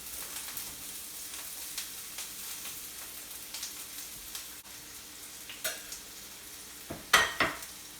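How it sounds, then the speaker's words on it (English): Onions sizzle in oil in a frying pan over medium heat for homemade pizza sauce, a soft steady frying hiss broken by occasional scraping stirs and a couple of sharper utensil knocks near the end. "when you put an onion into it, it just starts to sizzle"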